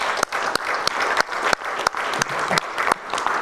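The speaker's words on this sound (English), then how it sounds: "a round of applause" A room of people gives a round of applause to a departing colleague at a meeting, a steady, close clapping that fills the whole clip with sharp individual claps standing out.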